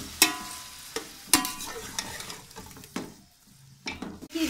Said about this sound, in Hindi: आप देख सकते हैं चिकन की भुनाई हो रही है।